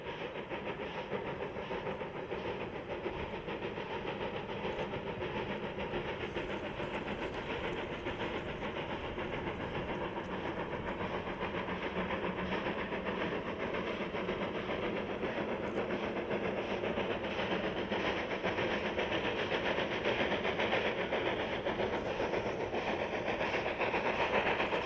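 A 1913 steam locomotive, number 1, in blue livery with matching coaches, climbs the Realp side toward the Vrútky Summit Tunnel, its steady working and rolling stock making a continuous, close, even rumble throughout.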